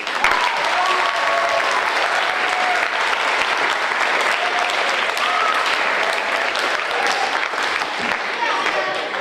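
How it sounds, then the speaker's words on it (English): An audience at a middle school debate finals applauds steadily for the whole stretch, a dense and even clapping from many hands that holds at the same loudness throughout. "maybe it's time to applaud all 3 matches you saw tonight"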